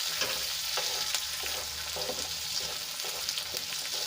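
Capsicum and other vegetables sizzle steadily in a covered pan for a pizza topping, a continuous bright frying hiss with faint stirring clicks throughout.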